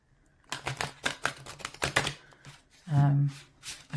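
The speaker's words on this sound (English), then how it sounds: "I can sort of riffle shuffle it" A large deck of playing cards being riffle shuffled, giving a run of quick crisp flutters followed by a louder sustained buzzing riffle, close and clear with no talking.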